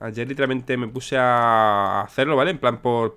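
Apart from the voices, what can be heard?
No distinct noise like a dog, phone or traffic.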